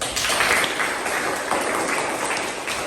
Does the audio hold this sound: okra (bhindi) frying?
no